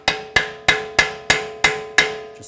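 Seven sharp metallic hammer strikes ring out at a steady rhythm as a 36mm 12-point socket is driven onto a rusty axle nut of a 2009-2010 BMW 535i xDrive, each with a bright clanging decay, close and loud with no talking.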